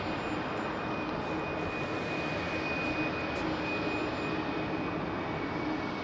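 An Airbus A330 jet departing Heathrow on runway 27R makes a broad, steady engine roar that holds at an even level throughout, with no voices over it.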